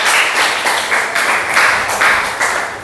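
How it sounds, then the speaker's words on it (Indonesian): A class applauds group 1 after their presentation, a short burst of brisk, fairly loud hand clapping close by, with pulses of energy that come and go over about three seconds. "beri tepuk tangan untuk kelompok 1"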